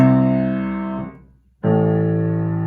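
Two sustained piano chords of octave notes, the first ringing out and fading into a brief silence before the second is struck and held.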